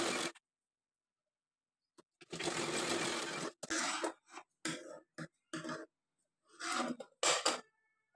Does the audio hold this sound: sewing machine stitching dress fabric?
yes